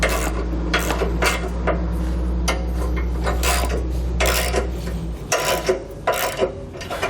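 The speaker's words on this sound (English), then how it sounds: "We'll take a 3/4 inch socket and wrench, and we'll tighten our bolts down." Bolts on a Roadmaster Direct-Connect base plate on a 2019 Ford Explorer are tightened with a 3/4 inch socket wrench, giving repeated close ratcheting clicks in irregular bursts over a steady low hum.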